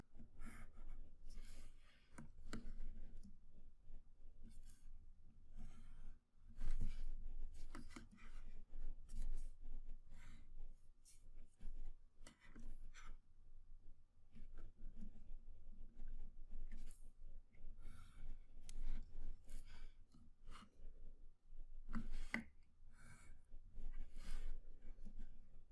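A pencil drawing firm, darker lines on paper for a two-point perspective sketch, with quiet, close scratchy strokes coming in irregular bursts and no talk.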